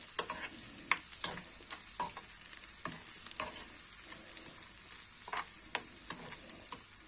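Chickpeas frying in a pan, a quiet background sizzle broken by a series of sharp clicks and scrapes as they are stirred and turned.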